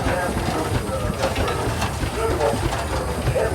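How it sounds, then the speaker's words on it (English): A 20 horsepower Harrison jumbo engine runs at a tractor parade, giving a steady, loud low rumble with hissing and mechanical clatter throughout, mixed with outdoor crowd and background noise. "20 horse Harrison jumbo engine"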